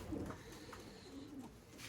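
Homing pigeons coo softly in a loft on a hot sunny day, a few low throaty calls rising and falling over faint background noise.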